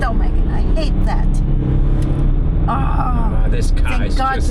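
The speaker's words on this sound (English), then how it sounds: "This engine is just so incredible." Performance SUV engine droning low and steady while driving behind a bus, mostly buried under loud talking inside the cabin.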